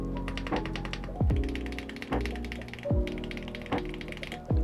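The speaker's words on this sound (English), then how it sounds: "this thing sounds so good. I'm gonna do a quick sound test for you guys" Rapid, even clacking of mechanical keyboard keys being typed on, with a repeating musical tone underneath.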